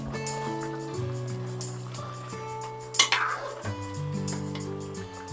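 Spoon scraping and clinking in a pot of Telangana-style country chicken curry, soft metallic taps over a steady tonal background, with one louder clatter partway through.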